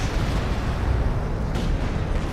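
Artillery barrage in the video game Company of Heroes 2, a dense, continuous low rumble of shelling and explosions that stays loud throughout with no talk.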